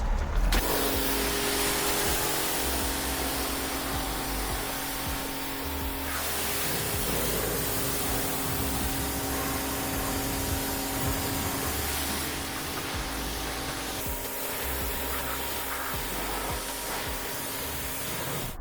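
Pressure washer spraying snow foam off a vinyl-wrapped car, a steady loud hiss of water jet and pump that runs continuously for the whole stretch with brief dips in intensity, no voices.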